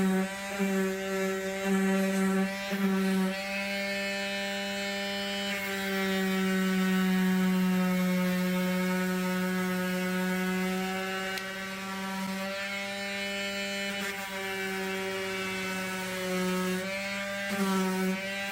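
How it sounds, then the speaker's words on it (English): Power sander or grinder with 80 grit sandpaper grinding bumper filler down on a Cadillac bumper repair, a loud, sustained motor whine that shifts pitch slightly as pressure changes, running almost without pause. "I'm going to go ahead and grind it down again with 80 grit to get most of that off"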